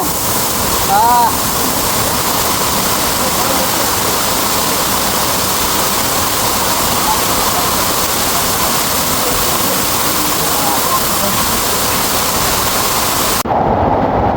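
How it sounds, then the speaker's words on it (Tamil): A waterfall at Munnar, Kerala roars in a loud, steady broadband rush that fills the whole stretch without letting up, with only a faint brief tonal sound near the start. "நேராக நம்ம ஃபால்ஸுக்கு உள்ளார போக போகிறோம்"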